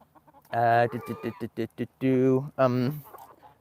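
Chickens in a coop cluck loudly right underfoot during corn feeding, a run of close, drawn-out squawks and short clucks.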